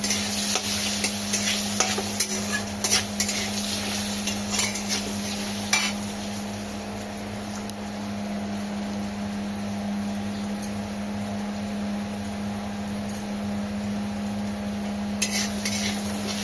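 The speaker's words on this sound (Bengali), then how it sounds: "আলুটা একটু ভাজা ভাজা হয়ে এসছে।" Potato pieces fry in a pan with turmeric for an egg curry. Metal spoon scrapes and clinks come close and irregular over a continuous sizzle and a low steady hum.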